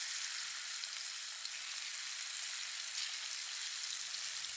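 Eggplant slices fry in hot oil in a pan, a steady soft hiss and crackle of sizzling that runs evenly throughout, fairly faint, with no voices.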